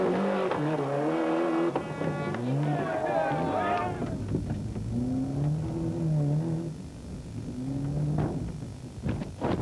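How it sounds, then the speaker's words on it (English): Onboard a 1995 Ford rally car on a Rally of Portugal stage, the engine revving and changing pitch through gear shifts with tyre scrabble as it clips a boulder on a left-hander and rolls, under commentary. "Delacour just clipping a boulder on the inside of the left-hander, flicking the car up onto 2 wheels and then over onto its roof"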